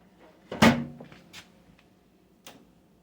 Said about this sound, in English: We're going to get the door on this.